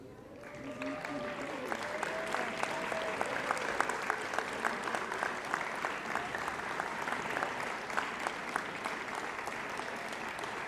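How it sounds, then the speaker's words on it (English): A graduating class and crowd at a university graduation ceremony in Adelaide applaud steadily and thickly for the whole stretch. The clapping keeps an even level throughout, and a few faint tonal sounds drift underneath it early on. "thank every one of those with a big round of applause"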